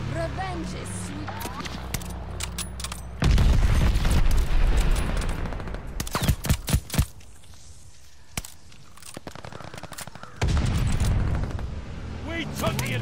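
Friendly bombing run in a World War II shooter with an MP-40, rumbling booming explosions in loud waves over scattered gunfire and game noise, with a voice speaking in places.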